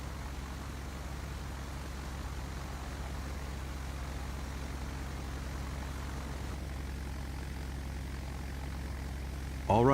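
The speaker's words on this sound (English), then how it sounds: "All right, you're now in a Douglas DC-3. Your goal is to taxi to the beginning of the runway and take off." A Douglas DC-3 taxis in the video game Flight Simulator X, its propeller engines giving a steady, low idling drone that holds level throughout, with a brief louder burst at the very end.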